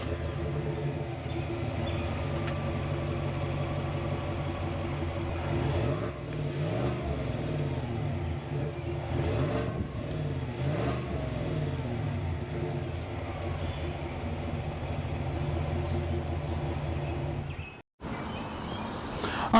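2021 Chevy Tahoe Z71 with its 5.3 liter V8 engine, a steady nearby idle broken by several quick revs that rise and fall around the middle of the stretch, then settling back to idle.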